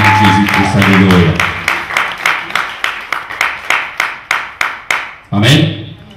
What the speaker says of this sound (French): On acclame encore très fort pour la gloire de notre Seigneur Jésus-Christ.